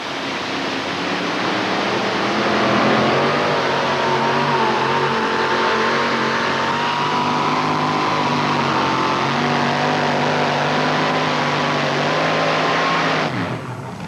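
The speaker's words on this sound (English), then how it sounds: "for a brand new truck, ladies and gentlemen, that one there really laid down a good run" A brand new pulling truck roars at sustained high revs through a full pull run at an NTPA tractor pulling event in Columbus, Ohio, 1989, loud and continuous for many seconds before cutting off abruptly.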